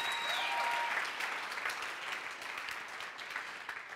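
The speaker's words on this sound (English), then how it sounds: "if you're going to clap for that one, you better clap" A church congregation breaks into strong, dense applause during a sermon. The clapping is loudest at the start and stays steady but eases off slightly, with no voices over it.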